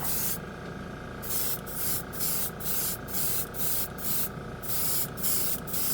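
Chrome spray paint from a Seymour Extreme FX can fed by an air compressor at about 20 psi hisses in a steady series of short bursts, roughly nine passes in a row, close and loud over a constant background hum.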